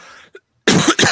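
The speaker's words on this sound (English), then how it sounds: "No, just a cough, just an old." One harsh, close cough bursts out after a brief quiet pause, loud and raspy, following a faint breathy sound.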